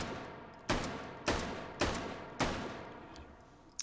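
Four sharp shots from a Model 8 rifle in the virtual-reality shooting game H3VR ring out at a slow, even pace. Each report is loud and close, and its echo trails off before the next one.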